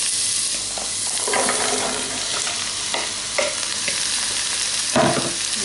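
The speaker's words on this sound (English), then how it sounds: "As you can hear, it started to sizzle" Steady sizzling and crackling of vegetables for soup frying in a hot pressure cooker, with a few stirring clatters and scrapes along the way.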